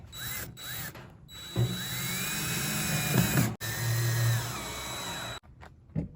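A power drill drives screws into the side of a beat-up mailbox. The motor whirs in a few close bursts, with steady grinding stretches between short pauses.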